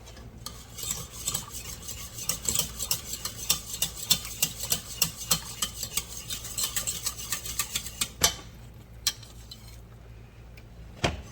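A spoon stirs a flour sauce in a pot, scraping the bottom in steady, rapid strokes with close, repeated metallic scrapes and clinks that continue for several seconds before slowing to a few last taps, with no talking.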